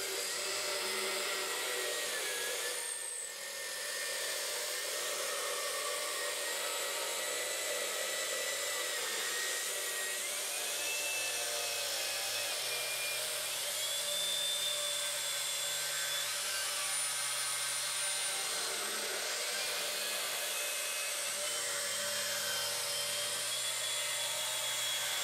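Rotary tool cutting small pieces of wood for a router base, a steady high-pitched whining drone with shifting tones running continuously at moderate level, alone without talk.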